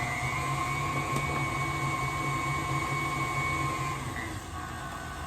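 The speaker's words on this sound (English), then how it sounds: "I'm gonna speed up the mixer." Electric mixer beating orange-soda cake batter, a steady, loud whirring motor drone held throughout and easing slightly in level near the end, with no talking.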